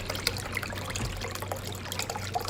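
Coconut water pours in a steady trickle into a lemonade mixture with canned coconut milk and condensed milk, a soft continuous liquid splash close by with no talking.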